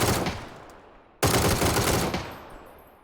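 Gunfire in a shooter game: two loud bursts of rapid automatic fire, each followed by fading echo, with a brief pause between them.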